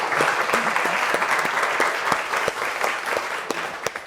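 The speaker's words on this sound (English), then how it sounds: "Round of applause" An audience at a business conversation event applauds steadily in a continuous wash of many clapping hands, with a few sharper individual claps standing out as it slowly tapers.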